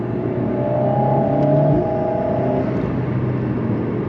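A 292-horsepower Alpine A110 S accelerates, its exhaust droning with a steady, loud rumble from inside the cabin, a tone swelling briefly midway before settling, with no one talking.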